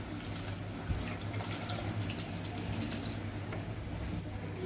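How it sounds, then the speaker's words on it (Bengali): Water is poured into a pot of cooking lentils with papaya, potato, salt and turmeric, making a steady close splashing rush, while birds chirp faintly in the background. "এবার পরিমাণ মতো জল দিয়ে দিলাম"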